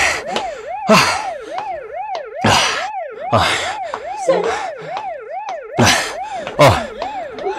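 Police car siren wailing loud and near in a steady repeating up-and-down sweep, broken by sharp bursts of noise throughout and with no talking.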